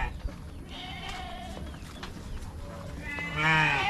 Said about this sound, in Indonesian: di belakang juga ini ada peternakan kambing